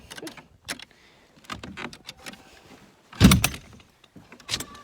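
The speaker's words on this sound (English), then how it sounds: "If I can open this door." A house door being opened, with clicks, rattles and one louder thump partway through, fairly faint and close, without talk.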